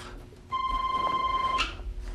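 A landline telephone rings late at night inside a family home, giving a single steady electronic tone lasting about a second over a quiet background, with no talking.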